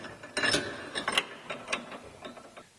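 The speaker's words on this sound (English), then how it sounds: "So you're going to use a 13mm wrench here, 13mm socket here" Ratchet socket wrench with a 13mm socket tightening rocker guard bolts on a Jeep Gladiator JT, a run of quick close clicking ratchet strokes in uneven bursts, with no talking.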